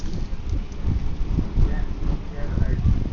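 Outdoor wind buffets the microphone in a steady low rumble while a buffalo burger is smoked outside, with someone talking over the gusts.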